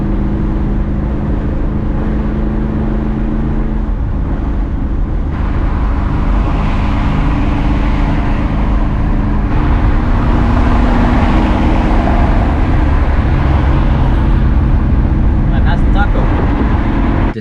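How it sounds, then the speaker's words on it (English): Steady, loud road and engine roar from a 1962 Chevy Impala cruising a freeway, with the rush of other cars passing alongside and a continuous broadband wind and tire noise throughout. "Despite most of the traffic on the freeway flying past me, I did manage to overtake a couple of cars"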